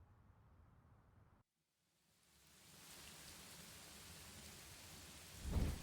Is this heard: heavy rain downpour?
yes